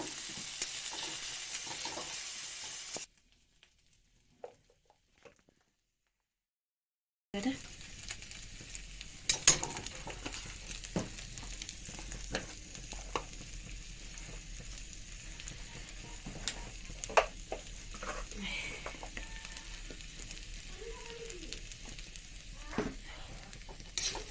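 Onion, potato and ginger-garlic paste fry in a pan, a steady close sizzle with scattered stirring clicks and light pan knocks, interrupted by a few seconds of silence early on.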